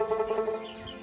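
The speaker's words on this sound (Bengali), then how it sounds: "এই হচ্ছে মুরগি সব।" Chickens clucking in a brief, close burst of throaty, repeated calls, heard on their own without talking.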